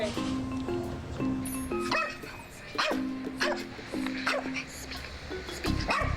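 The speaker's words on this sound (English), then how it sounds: "A little barking. Growl." A dog barks repeatedly up close, short yipping barks in a quick uneven series with brief whines between them.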